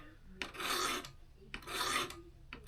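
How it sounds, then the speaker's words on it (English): A knife is sharpened freehand on a sharpening stone in two slow, close scraping strokes with a quiet gap between them, then a third stroke just begins, and no one speaks. "I'm really trying to teach myself freehand sharpening"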